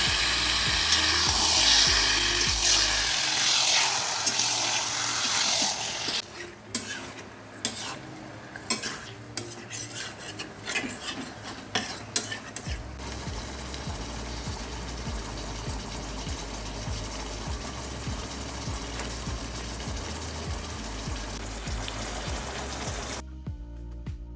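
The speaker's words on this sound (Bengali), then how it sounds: "তারপর খুব ভালো করে মশলার সঙ্গে মাংসটা মিশিয়ে নেব এবং অনেকক্ষণ ধরে কষাতে থাকবো" Marinated mutton sautéed with spices in oil for a mutton curry gives a loud, continuous sizzle, with a stretch of rapid clinking spoon strokes against the pot partway through.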